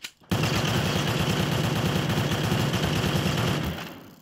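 Rapid gunfire from a Minecraft gun mod, a dense burst of repeated shots fired in quick succession that continues loudly for about three seconds before trailing off, with no voices.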